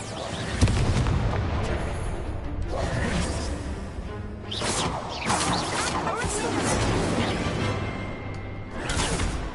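Incendio fire spell bursts in Hogwarts Legacy, repeated whooshing blasts and booming impacts spaced a second or two apart over a churning rumble, with a voice talking throughout.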